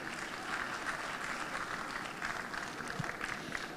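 Audience applause at a psychology success-story talk, a dense, steady wash of many hands clapping at moderate volume throughout, with no speech over it.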